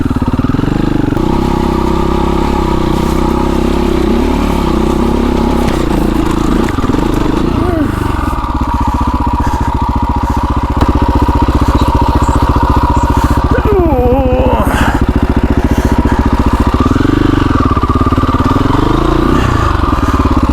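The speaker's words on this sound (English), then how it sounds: "I just went down this steep hill, so you guys are going to see me go up it." A motorcycle laboured up a steep hill, its engine loud and close throughout, droning and revving in uneven surges, with a voice faintly heard over it.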